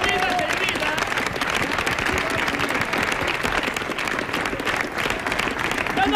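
Audience at a Spanish-language travelling comedy show applauds in a dense, steady, loud wash of clapping that lasts throughout.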